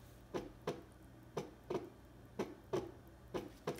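Heartbeat setting of a Big Red Rooster BRRC129 baby sound machine: soft, low double thumps repeating in a steady lub-dub rhythm, about four beats, faint and alone.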